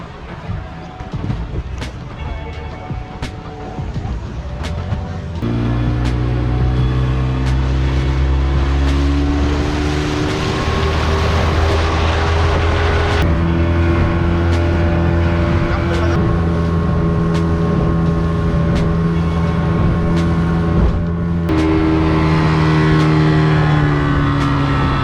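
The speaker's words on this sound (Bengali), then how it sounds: "এখন বোট স্টার্ট দিবে।" A speedboat engine at Kuakata sea beach cranks and catches after a few seconds of quiet, then runs loud and steady, its pitch rising and falling as it revs.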